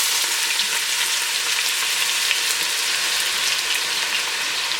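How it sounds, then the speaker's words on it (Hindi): Chopped onions sizzle steadily in hot olive oil for a homemade pasta sauce, a dense, continuous crackling fry that stays loud and close throughout with no talking. "यहाँ पर मैंने ऑलिव ऑयल जो है वो गर्म कर लिया हुआ है। इसके अंदर अब आप ऐड करेंगे जो कि आपको अनियंस दिखाई थे"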